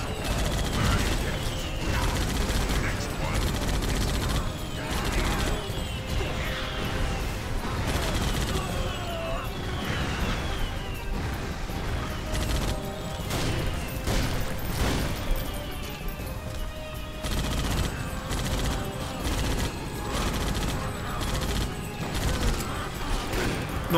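Rapid gunfire and mechanical weapon clatter from the video game Painkiller: Reloverdose, with dense bursts and metallic ratcheting continuing loudly throughout amid game effects.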